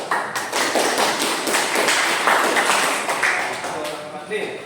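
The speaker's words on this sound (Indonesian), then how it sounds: "beri aplaus" A group applauds at an educational event, a dense steady burst of clapping that rings close and loud for several seconds before thinning out.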